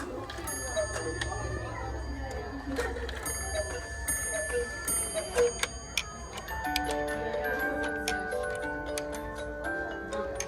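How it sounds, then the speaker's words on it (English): Many traditional Black Forest cuckoo clocks tick together in a shop, a dense overlapping clatter of sharp ticks with bright metallic chime tones rising partway through, steady and fairly close. "I will show you some traditional Black Forest cuckoo clocks"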